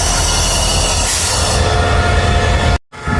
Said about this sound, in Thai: ถอดหัวนะครับ เพื่อเปลี่ยน หัวรถจักรนะครับผม